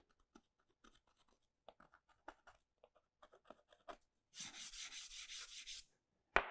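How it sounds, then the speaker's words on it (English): A tool scrapes through paint on a textured painting surface, giving a steady run of rough, raspy strokes after scattered light taps and scratches, close and fairly loud, with no talking. "I can just scrape down through"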